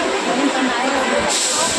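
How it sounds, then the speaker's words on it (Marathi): A Mumbai local train bound for Dadar rolls along with a steady loud hiss and rumble heard from inside the carriage. "ट्रेन पकडली आहे दादरची."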